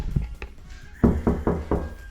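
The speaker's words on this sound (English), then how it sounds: "I'm gonna knock up Steve now, peeps" A hand knocks on a door to wake someone up, four firm, evenly spaced knocks after a few softer taps, close and loud, with no talk over them.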